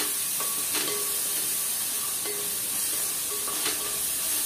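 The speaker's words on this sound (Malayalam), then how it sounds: "സവോള നന്നായിട്ട് വഴണ്ടു വരണം" Sliced onions frying in oil in a pan for chicken rice: a continuous close hissing sizzle, broken by a few short clinks and scrapes of a stirring spoon.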